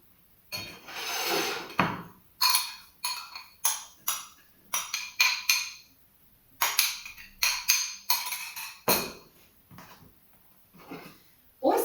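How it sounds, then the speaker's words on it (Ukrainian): A green vegetable salad being tossed with salt and oil, a run of brisk rustling, rubbing strokes and light utensil scrapes in quick bursts, close and moderately loud with short pauses between. "приправимо сіллю, додамо масло, перемішаємо ретельно наші вітаміни зеленого кольору."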